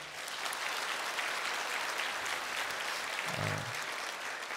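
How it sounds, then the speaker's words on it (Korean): Congregation at a Korean church Sunday service applauds in a soft, even wash of clapping that stays steady and fairly distant for the whole stretch. "격려 박수 한번 해주세요"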